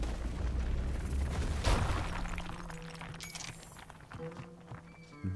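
A single explosion blasts open coal in Runescape: Dragonwilds, a sudden thump within rumbling ambience, followed by fainter clinks and tonal game sounds.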